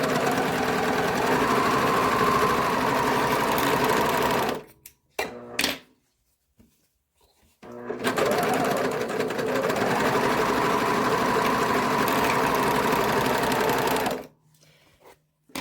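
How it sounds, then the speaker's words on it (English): A serger sewing machine runs along the short edge of a fabric pocket lining with a loud, steady mechanical whir. It stops briefly, then restarts for a second long continuous run before falling silent. "we're going to take our lining and we're going to, our pocket lining, and we're just going to serge the short edge"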